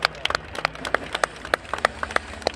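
At a SeaWorld killer whale show, the crowd gives the performers a scattered round of applause: sparse, sharp handclaps, some near and some farther off, over a low background murmur.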